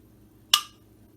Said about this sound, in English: Already sealing. That's what I like to hear.